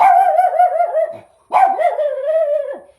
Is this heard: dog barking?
yes